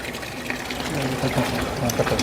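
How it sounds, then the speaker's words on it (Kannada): Water from an automatically switching pump pours and trickles into a student-built model of an industrial boiler. The flow is steady and fairly close, with a faint murmur of background voices. "ಅಲ್ಲಿ ಪಂಪ್ ಆನ್ ಆಗಿದೆ ನೋಡಿ ನೀರು ಬರ್ತಾ ಉಂಟು ಪಂಪ್ ಆಟೋಮೆಟಿಕ್ ಆನ್ ಆಗ್ತದೆ"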